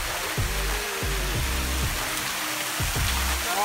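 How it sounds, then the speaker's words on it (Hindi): Water pours steadily from a monsoon waterfall near the Kalshiya Mahadev site, a dense continuous rush close by, with recurring low rumbles underneath. "ये झरना आता है ऐसे यहाँ से"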